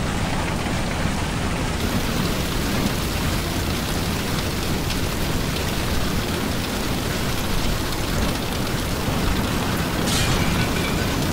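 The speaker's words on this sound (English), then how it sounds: "Yeah, I know, there's hail." Hail and heavy rain during a violent night thunderstorm, a dense, loud, continuous pelting roar that runs unbroken throughout with no voices.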